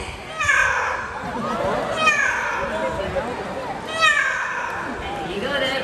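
A parrot named Quincy at Bird Paradise Singapore mimics a fierce cat, giving three drawn-out, harsh yowling meows spaced about two seconds apart amid a bustling outdoor crowd.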